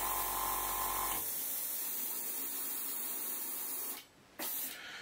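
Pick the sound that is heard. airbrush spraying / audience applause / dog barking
airbrush spraying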